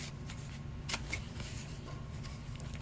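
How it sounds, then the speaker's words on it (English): Scissors snip small bits of foam while cutting a piece for a Soldier 76 costume prop, giving a few quick, crisp cuts close to the mic over a faint steady hiss, without voices. "it's really just snipping little bits"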